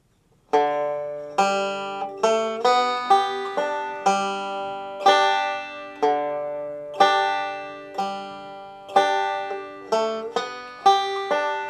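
A banjo plays through a line of "I'll Fly Away", a steady run of bright plucked notes and chords with ringing sustain, close-miked and unaccompanied, no voice.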